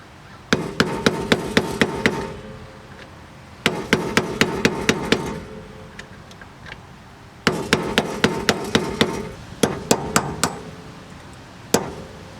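Metal hammer tapping a screwdriver against a stuck 1998 Honda Accord wheel bearing, loud close sharp strikes in three rapid bursts of about eight blows each, separated by short pauses, with a few scattered single taps at the end.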